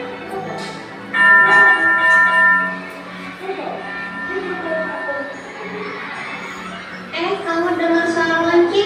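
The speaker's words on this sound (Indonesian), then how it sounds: "Kamu dengar suara lonceng nggak?" A bell rings out in resonant tones while people talk over and between the chimes.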